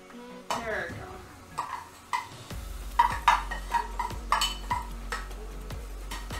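Cooked stir-fry rice being shifted into a larger pan on another burner, with metallic scrapes and knocks of utensil against cookware repeating every half second or so, a low burner hum underneath.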